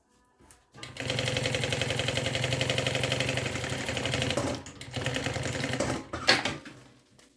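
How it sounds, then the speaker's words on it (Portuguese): A sewing machine stitches a bag's lining to its main fabric in a steady, fast mechanical run of about four seconds, close and loud, then pauses and gives a shorter burst with a few clicks. "agora eu quero costurar de fora a fora o forro no principal"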